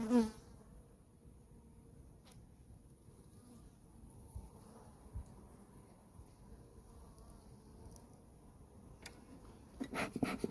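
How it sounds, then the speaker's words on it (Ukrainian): A faint, steady hum of many honey bees buzzing close by on a hive frame during a February inspection, with occasional soft handling sounds and a louder rustle near the end. "Ось така кількість бджоли."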